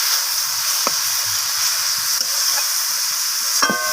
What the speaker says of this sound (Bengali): তো দেখুন শাকটা ভাজতে ভাজতে এইভাবে নাড়াচাড়া করে শাকটা কতটা আগে থেকে কমে এসেছে।